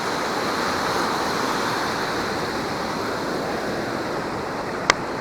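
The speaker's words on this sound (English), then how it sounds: "I'm already in the waves" Steady surf washes continuously onto a beach during metal detecting, a broad, even roar with wind across the microphone and a brief sharp tick near the end.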